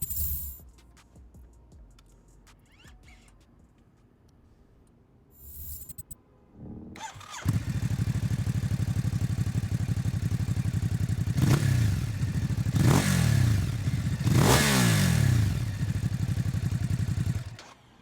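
A 2019 Ducati Hypermotard motorcycle cranks and fires up after a quiet stretch, then rides off with a loud steady engine drone and several distinct revving swells as it accelerates, close and continuous.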